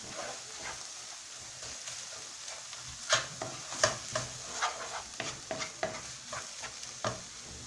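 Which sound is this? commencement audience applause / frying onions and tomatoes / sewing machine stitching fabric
frying onions and tomatoes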